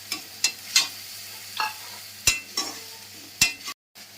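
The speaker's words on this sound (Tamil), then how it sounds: "இப்போ நம்ம தக்காளி இதை ஊற்றிட்டு அது பச்சை வாசனை போகணுன்னு கொஞ்சம் வதக்கிக்குவோம்." Tomato with chilli powder, turmeric and salt is sautéed and stirred in a pan, giving a soft steady sizzle broken by several sharp scraping strokes of a spoon against the pan, with no talk.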